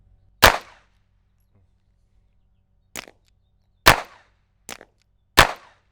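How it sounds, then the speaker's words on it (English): Five sharp, loud .22 LR rimfire pistol shots fired unsuppressed, a single crack followed by a long pause and then four more in quick succession, each with a short tail and clear quiet between them. "We both have ear pro in for unsuppressed shooting."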